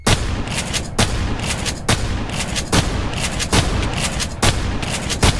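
Shotgun blasts fire in a steady rhythm of about six loud booming shots in a Cartoon Cat horror video game, each sharp report trailing a noisy tail.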